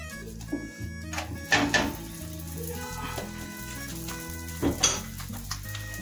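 Msemen (malwi) flatbread frying in an oiled pan, giving a steady close sizzle with a few louder bursts of crackle plus light clinks and scrapes of cookware throughout.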